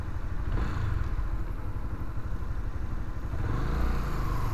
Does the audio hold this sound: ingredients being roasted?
no